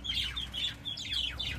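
Budgerigar chicks tucked inside a clay breeding pot give a rapid series of short, scratchy squawking calls, close and fairly clear, repeating in quick bursts without pause.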